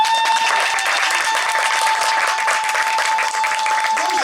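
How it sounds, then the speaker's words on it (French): A crowd applauds at a baby beauty contest at a health district event in Assinie, Ivory Coast, a loud, dense, continuous clapping throughout with a sustained tone underneath. "Donc, applaudissez."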